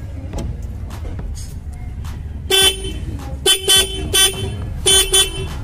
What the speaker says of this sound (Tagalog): At ipaparinig ko sa inyo yung tunog ng ating busina.